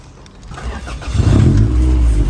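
A Toyota AE86 Hachi engine rumbles close and loud, building from a low idle into a deeper, rising drone as the car pulls away.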